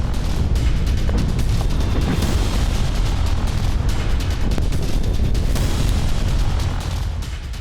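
Continuous heavy rumbling booms and blasts from FAB aerial bombs striking Kramatorsk, loud and dense, with sharp cracks scattered through a constant low roar.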